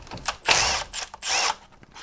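Fasteners, 8mm and 10mm, being loosened from a small cover on a BMW E90, with ratchet clicking in two longer buzzing bursts between short clicks, close up.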